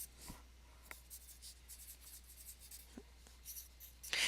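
Pen or marker writing a mathematical perpendicular symbol by hand during a vector dot product lesson, producing faint, brief scratchy strokes over a quiet background with a low hum.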